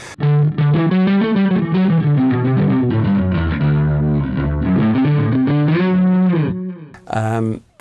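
A bass guitar runs through a chorus effect pedal, with a bit of echo also switched on, playing a shimmering, sustained melodic line for several seconds, loud and up close, then cutting off with a brief final burst.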